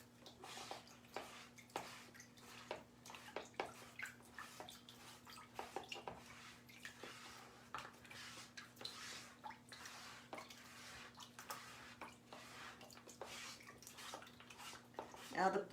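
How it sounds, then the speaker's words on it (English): A printed transfer being rinsed under running water, a soft steady stream with drips and light wet handling, quiet and close, over a faint low hum. "we're going to wash this really quick"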